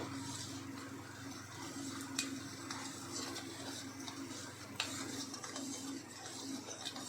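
Ghee and yogurt being stirred together for panchamrit, a soft continuous scraping and swirling in a bowl with faint clinks of a spoon, steady and quiet throughout with no talking.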